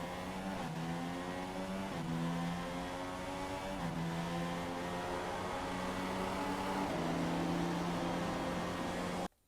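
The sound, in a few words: race cars on track, Russian GP racing video game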